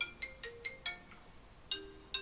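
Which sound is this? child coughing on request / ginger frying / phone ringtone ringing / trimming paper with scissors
phone ringtone ringing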